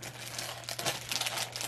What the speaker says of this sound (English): I'll take out the plastic bag.